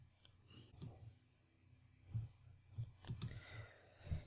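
Mouse clicks on a computer while installing Kali Linux in VirtualBox, a few sharp, close, sparse clicks spread unevenly over a quiet background, with no talking.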